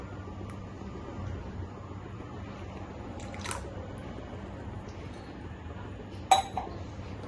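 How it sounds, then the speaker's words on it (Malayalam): Pumpkin payasam with milk is stirred in a pot over a low flame. A soft, faint bubbling bed carries occasional clinks of a spoon against the vessel, with one sharper knock near the end. "നന്നായിട്ടൊന്ന് ഇളക്കി കൊടുക്കണേ."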